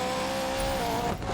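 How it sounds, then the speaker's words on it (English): A BMW M3 E92 drifting in Need for Speed Payback, engine droning with a sustained tonal tire squeal held loud through the slide, no talk. "Brake the drift nice and early."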